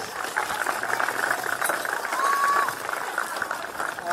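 A crowd at a women's premier league football grand final applauds the opposing team, Centrals: sustained, even clapping fills the space, with a voice briefly heard over it.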